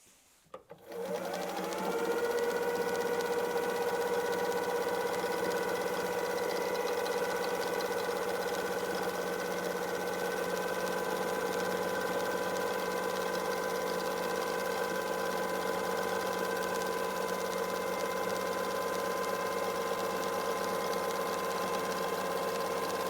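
A sewing machine runs continuously during free motion quilting, starting up with a few clicks and then holding a steady, loud mechanical whir for the rest of the stretch.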